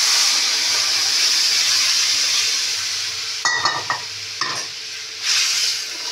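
Mung dal boiled with salt and turmeric poured into bitter gourd already frying in a pan, giving a loud steady sizzle and hiss, then a few close clanks and scrapes of stirring near the end.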